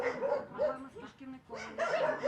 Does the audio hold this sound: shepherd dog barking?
yes